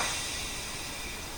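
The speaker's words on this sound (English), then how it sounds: "Do this slowly because I've got all the spark plugs in, so there's a lot of compression." Faint, steady compression hiss from a 1999 Yamaha R1 engine turned slowly by hand with three spark plugs fitted, an even airy rush with no voices.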